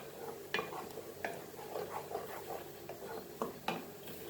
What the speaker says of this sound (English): Mix this all now.